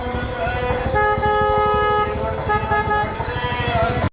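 A tractor horn blares in long sustained honks, one after another, over an idling tractor engine rumble nearby.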